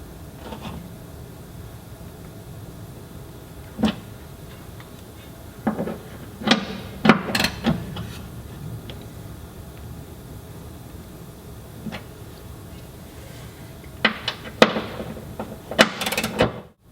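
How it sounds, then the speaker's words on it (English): A 13mm socket ratchets and knocks against the front bolts of a fuel tank guard on a Land Rover Defender Puma: scattered short metallic clicks and clunks, mostly isolated, with a denser cluster near the end, over a low steady background. "Now for the 2 bolts in the front. 13mm socket again."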